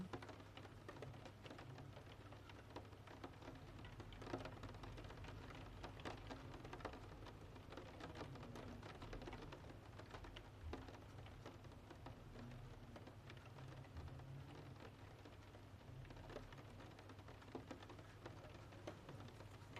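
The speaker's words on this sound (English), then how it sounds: "The rain grows faint." Steady rain falls outside a window at night, a continuous soft hiss with scattered drops, even and unbroken for twenty seconds, with no talk.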